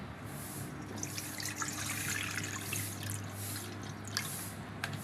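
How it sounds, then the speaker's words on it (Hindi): Water runs from a tap into a bowl for washing one kilogram of mutton, a steady close trickle and splash with occasional drips and no talking. "आप बोल में पानी डाल लेंगे।"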